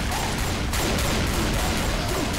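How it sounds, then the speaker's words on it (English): The Tank zombie from the Left 4 Dead 2 video game, heard as a loud, dense burst of game noise with gunfire-like crackle filling the whole clip. "Tank sound."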